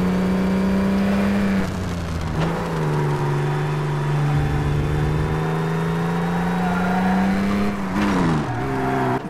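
A 1930s Formula One racing car engine in Toca 3, a loud, close, buzzing drone. It revs and drops in pitch several times while being slid through corners, with no voices.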